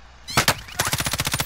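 Gunfire in the video game Warzone: a couple of loud close shots, then a rapid, evenly spaced burst of automatic fire rattling on without pause, no talking over it.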